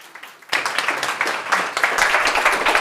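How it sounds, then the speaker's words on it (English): Audience applause at a UN climate-change panel event with local communities and youth, breaking out suddenly after a quiet moment and continuing as steady, dense clapping throughout. "So a big applause for the two of them"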